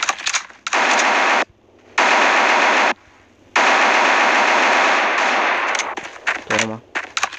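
Sustained automatic gunfire in a video game shootout, long loud bursts broken by short pauses and ending in scattered single shots, with faint voice chatter underneath.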